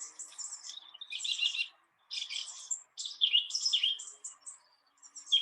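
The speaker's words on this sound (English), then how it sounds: "You might be able to hear the song thrush now." A song thrush sings close and clear, giving short bright phrases separated by brief pauses, with the phrases repeated over and over and no other sounds around it.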